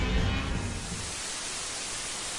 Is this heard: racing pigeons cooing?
no